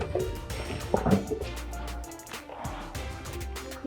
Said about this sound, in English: You're pouring it.